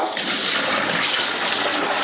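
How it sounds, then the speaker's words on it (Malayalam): Water is poured steadily into a cooking pot for kuzhimanthi rice, a loud continuous rushing splash lasting a couple of seconds. "വെള്ളമൊഴിച്ച് കൊടുക്കാം"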